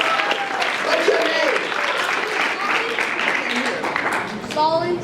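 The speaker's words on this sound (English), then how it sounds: "Give him a big round of applause" Audience applause for a young performer at a panel event, a dense, sustained round of clapping with some voices and cheers mixed in, fading as a voice begins near the end.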